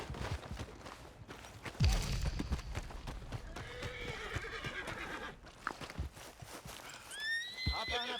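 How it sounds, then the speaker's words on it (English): A horse in Red Dead Redemption 2 whinnies loudly while hooves clip-clop along, with a second shrill neigh near the end over steady in-game ambience. "Are you gonna mount that new horse of yours or not?"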